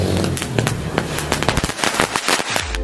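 A rocket firecracker bursts against a toy airplane, a rapid run of loud, sharp cracks and pops close by, crackling densely for under three seconds.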